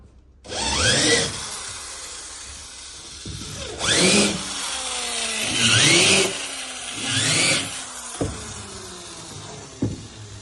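Power drill running a countersink bit into wood for a wall-hung shelf, several loud bursts with rising then falling whine as the motor spins up and slows, separated by short pauses and a few small clicks.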